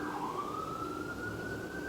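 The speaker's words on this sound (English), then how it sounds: "So I'm just gonna wait for this siren." An emergency vehicle siren passes outside, a single faint rising wail that holds steady under low background hum, with no one speaking.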